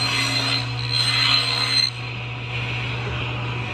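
A table saw cutting a rabbet in wood gives a steady, loud mechanical drone with a high whine. The whine drops away partway through while the low running hum carries on.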